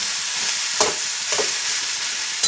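Cauliflower stalks fry in a pan with mustard paste, a continuous close sizzle with three brief scraping stirs spaced through it.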